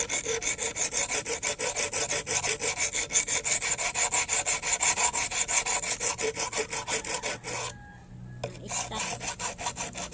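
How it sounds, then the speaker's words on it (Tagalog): Coconut being grated by hand for bukayo, a steady rhythmic rasping scrape repeating quickly and closely for most of the stretch, with a brief pause near the end before the strokes resume. "Kaya tayo ay magkukudkud ng niyog."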